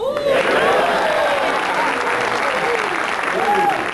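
A talk show studio audience breaks into applause, a thick, steady wash of clapping with voices calling out and cheering throughout.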